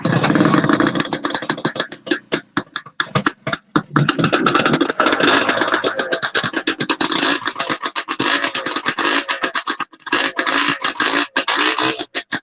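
A vintage snowmobile engine runs close by at a snowmobile show in Newport Center, Vermont, a loud raspy two-stroke buzz that sputters and revs unevenly throughout, with no voices.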